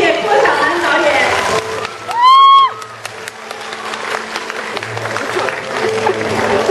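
An audience applauds director Guo Xiaonan at the premiere of the Yue-opera-style production Bubu Jingxin at Yihai Theatre. The clapping is mixed with voices, and a brief high whistle-like tone rises over the crowd partway through.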